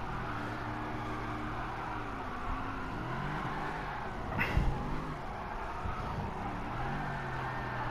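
A car drifting in Gran Turismo Sport on a drift setup holds a sustained, wavering engine drone that rises and falls with throttle, with a brief sharp burst of tire noise midway.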